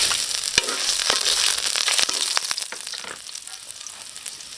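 Ginger sautéing in a pan for pininyahang manok, a close, steady sizzle with scattered crackles and scraping stir sounds that ease off toward the end, with no talking.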